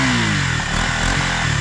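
A KTM motorcycle engine with a damaged exhaust runs loud and close, a harsh, rattly drone with uneven pulsing and clatter, no voices.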